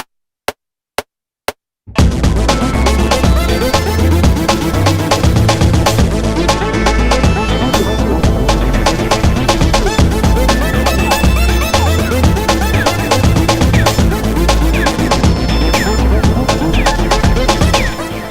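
After four sharp count-in clicks, dense layered music kicks in with sustained synth chords over a steady beat, loud and continuous.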